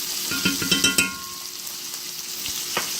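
A T-bone steak frying in a pan with butter on top sizzles steadily, with a few sharp clinks and scrapes early on and another knock near the end, close and fairly loud with no talking.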